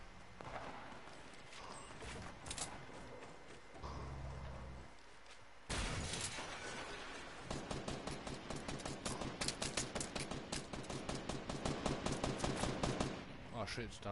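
Rapid automatic gunfire in the Fortnite battle royale, with an earlier shot and then a long run of evenly spaced, sharp repeated shots that grow louder and closer, with some brief voice underneath.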